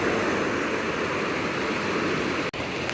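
A large Missouri Ozarks karst spring boils up out of the ground, a steady loud rushing roar of water with no break apart from one brief dropout.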